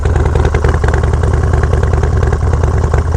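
A Harley-Davidson Dyna Low Rider S hot rod motorcycle engine fires up and settles into a loud, close, lumpy rumbling idle with steady clattering pulses and no talk over it.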